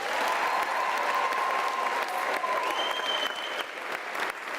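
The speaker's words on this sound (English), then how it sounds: "Let's give you a round of applause." Steady audience applause at a university graduation ceremony, a continuous wash of clapping filling the whole clip at a fairly even level, with a few faint tones sounding above it.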